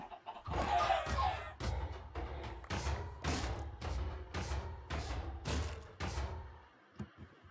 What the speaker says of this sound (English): Spawn in a bunch of chickens, and then I kill one.